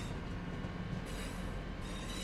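Simulated Birmingham Cross City Line train in Train Sim World 3, with a steady rolling rumble and rail noise running loud and continuous throughout.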